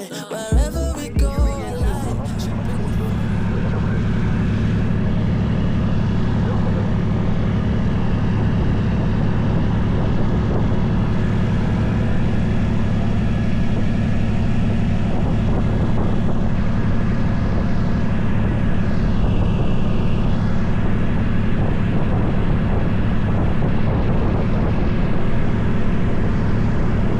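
Steady, loud drone of a 1960 Beechcraft Twin Bonanza's twin piston engines with propellers, heard from inside the cockpit; a brief burst at the start settles into a constant, even roar with no talking.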